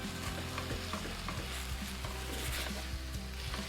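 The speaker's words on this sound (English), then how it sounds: "while all these are sauteing up" Garam masala, ground coriander and chili powder sautéing in a pan, a steady close sizzle with rhythmic scraping and stirring knocks throughout.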